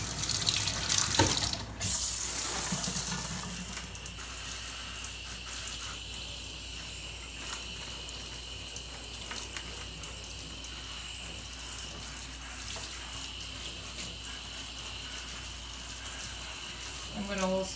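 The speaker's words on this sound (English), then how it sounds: "I'm going to give it a shower." Tap water runs steadily to rinse sticky sap off a euphorbia plant. A continuous gentle splashing stream with a few brief knocks near the start and faint background chirping.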